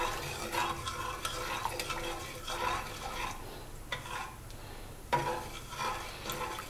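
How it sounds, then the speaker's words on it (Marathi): Jackfruit modak filling with sugar is stirred in a nonstick pan, a spoon scraping and sloshing through it in repeated uneven strokes, fairly close and moderately loud, with no talking. "फक्त ढवळत राहायचं, कारण खाली लागू नये म्हणून"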